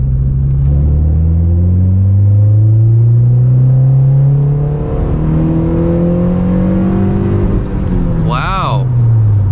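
A Honda K-series engine with VTEC pulls hard through the gears on a road, its loud rising rev sweeping steadily upward before a quick shift near the end.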